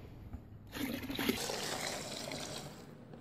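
A gallon of water poured into a termiticide mix: a soft rush of liquid begins after a quiet half-second and continues steadily to the end, close and moderately loud.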